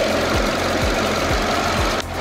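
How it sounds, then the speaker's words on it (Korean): With the hood open, a gasoline car engine idles quietly and smoothly in a steady hum with a faint, regular ticking pulse. It is heard close up with no voices. "영상으로 엔진 소음 한번 담아보도록 하겠습니다"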